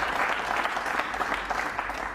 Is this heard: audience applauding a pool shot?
yes